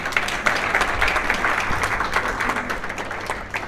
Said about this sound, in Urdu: پاکستان کے سفیر کے لیے تالیاں بجائیے